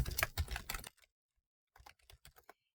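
Fingers tap on a computer keyboard in two quick bursts of close, crisp keystrokes separated by a short pause, with nothing else heard.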